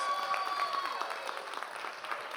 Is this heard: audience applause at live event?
yes